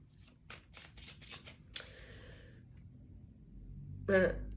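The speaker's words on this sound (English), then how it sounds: "I was called to quit shuffling" A deck of tarot cards is shuffled in a quick series of soft, crisp riffling bursts near the microphone, then stops, followed by quiet breathing and a brief vocal sound.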